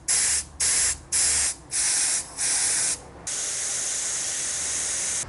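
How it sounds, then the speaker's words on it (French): A paint spray gun hisses onto porcelain being restored, in five short bursts and then one longer continuous spray, close and clear with no talking. "Un fond perdu est déposé à l'aérographe pour fondre sur les décors, puis la couleur est passée au pistolet."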